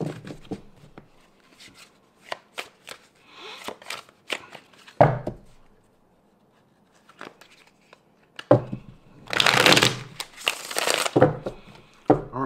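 Tarot cards shuffled by hand, giving bursts of crisp riffling and flapping, close and fairly loud, separated by short quiet pauses, with no talk.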